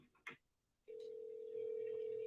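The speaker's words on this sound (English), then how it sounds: "I just press 1 and the phone is going to ring." A phone dialed by pressing 1 on a dialer, heard through a speaker as a steady electronic ringback tone that follows a brief clack and continues evenly, slightly louder toward the end.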